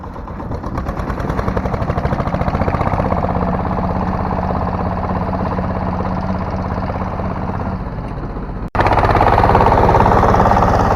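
A homemade mini cultivator engine runs in low gear with a loud, close, continuous rapid chugging drone, cutting out abruptly near the end before resuming louder and slightly higher.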